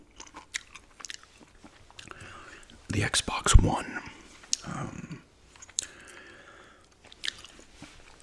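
Close, wet gum chewing with soft smacks and clicks that come in irregular bursts, louder through the middle, while a person whispers throughout.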